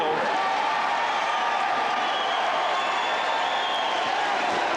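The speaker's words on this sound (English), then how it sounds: "The crowd cheers him" Boxing arena crowd at Evander Holyfield's heavyweight bout against Michael Dokes roaring and cheering his win, a continuous loud wash of voices and applause filling the hall.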